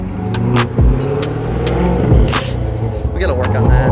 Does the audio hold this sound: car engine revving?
yes